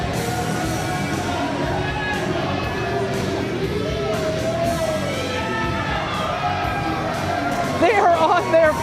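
A wrestling crowd at the Nile Theater roars with cheers and whoops throughout, a dense hubbub swelling louder near the end, while a commentator talks over it.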